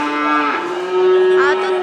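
Large cattle at a busy cattle market give a loud, close, drawn-out moo that rises and wavers in pitch before tailing off.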